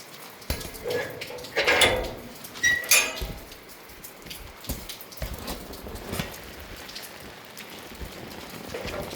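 Heavy overnight downpour drums steadily on surfaces around a rural house and fields, with a few louder clattering knocks and splashes rising over the constant rain.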